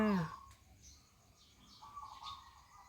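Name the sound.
birds singing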